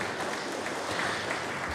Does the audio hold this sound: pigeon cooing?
no